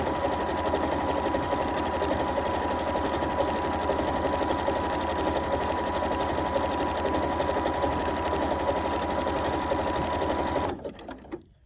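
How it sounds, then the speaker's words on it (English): A bernette 37 sewing machine runs steadily as it stitches a decorative swirl stitch, a close, even mechanical whir and rapid needle rhythm that continues for about ten seconds before stopping abruptly. "now I'm just going to stitch this stitch, starting with holding my thread, mode 3, and stitch number 38"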